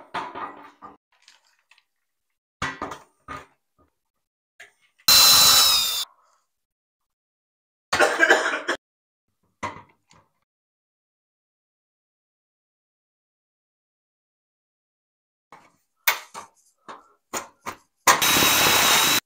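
Power drill driving screws through a wooden batten into a metal ceiling rail indoors, in several short bursts of whirring separated by quiet pauses, the longest near the end.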